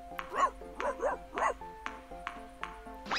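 A cartoon dog in a kids' maze video game gives a series of short, bright yips and barks, about eight in steady rhythm, with light electronic chime tones behind them.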